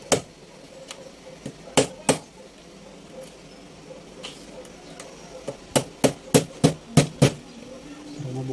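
Sharp metallic taps from hammering at a stuck screw on a Singer Mon Ami sewing machine: a few scattered knocks, then a quick run of about six blows, close and distinct over a quiet background.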